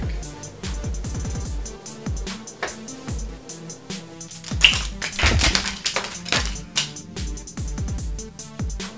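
Playing cards are gathered up and handled during a magic trick, making a busy run of close clicks, taps and soft shuffling rattles that grows louder near the middle, with no talking.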